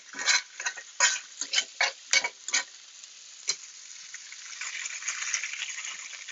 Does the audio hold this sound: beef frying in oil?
yes